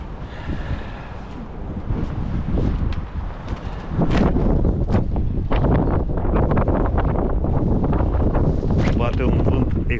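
Heavy, cold wind buffeting a microphone beside frozen water near the warship Aurora, in loud, rumbling gusts that grow stronger partway through, with a voice speaking underneath.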